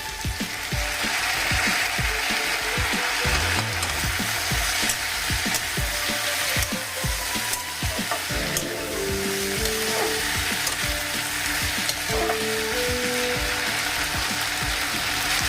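Chopped tomato sizzles loudly in a frying pan, a constant hiss mixed with rapid clattering stirs and scrapes, joined midway by a few faint held tones.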